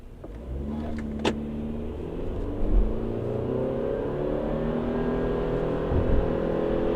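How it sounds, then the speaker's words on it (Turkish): A Subaru Forester e-Boxer hybrid accelerates hard from a standstill, its engine droning at a steady held rpm with a rising whine, heard from inside the cabin with no talk. "Hibrit motor çok güzel çalışıyor."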